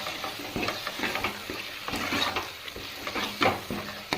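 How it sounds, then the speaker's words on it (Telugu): Ginger garlic paste frying in a pan for a brinjal curry, a close sizzle broken by repeated scraping and stirring strokes from a spoon against the pan. "అల్లం వెల్లుల్లి పేస్ట్ వేసి కాసేపు బాగా ఫ్రై చేసుకోవాలి"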